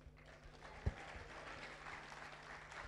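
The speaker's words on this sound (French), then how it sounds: "je vous demande d'applaudir pour les panélistes" Audience applauding panelists after a French-language panel discussion, a soft, quiet patter of clapping with one sharper knock early on, steady throughout the brief stretch.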